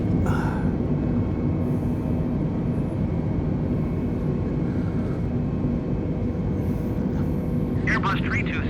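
An Airbus airliner in Microsoft Flight Simulator climbs after takeoff in a zero-visibility blizzard, giving a steady, loud engine roar that holds throughout, with a brief higher-pitched sound near the end.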